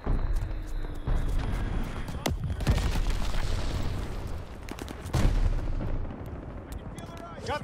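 Grenade blasts in the Call of Duty Vanguard shooter game, with several heavy booms among bursts of gunfire in a loud, busy battle while voices shout over the din.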